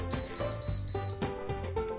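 A Moonstone hair curling device gives off a short run of repeated high electronic beeps at close range, steady and evenly spaced, with no voices.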